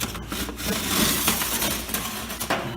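Scraping and rubbing of a tin ceiling panel being worked loose and pulled out after its screws are removed, close and continuous with a few sharper knocks, no talk.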